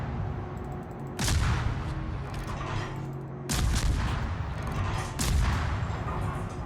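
Naval guns firing in World of Warships: three loud, deep booming salvos spaced a couple of seconds apart, each with a long rumbling tail, over a steady low ship hum.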